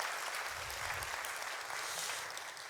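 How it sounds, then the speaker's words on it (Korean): Congregation applause at a church evening worship service, a steady, dense patter of many hands that holds evenly for the whole stretch, fairly quiet and distant-sounding with no voices. "여러분 박수를 다시 한 번 더 보내주시면"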